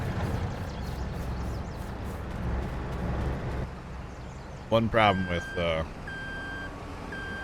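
Truck engine in Farming Simulator 22, running and reversing at a Missouri farm field, a steady low drone with electronic reversing beeps near the end, while people talk over it.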